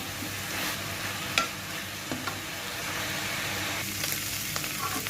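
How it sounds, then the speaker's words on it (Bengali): Chanda fish bharta is stirred and fried in a pan: a soft sizzle runs beneath scraping spatula strokes, with one sharper knock against the pan, close and fairly quiet. "এখন একটু নাড়াচাড়া ভেজে ভেজে নামাতে হবে।"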